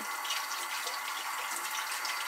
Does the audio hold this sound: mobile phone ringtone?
no